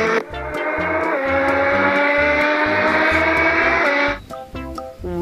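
A formula race car sound effect plays for a snail toy, a loud close engine whine revving steadily for about four seconds before cutting off into brief clicks and electronic tones.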